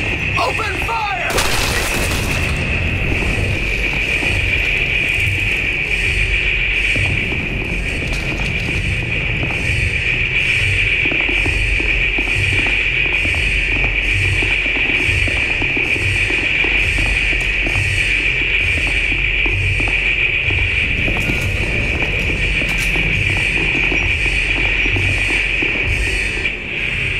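Gunfire in the video game The Bureau: XCOM Declassified, loud sustained bursts of shots and explosive booms over a constant high electronic whine, with voices under the din.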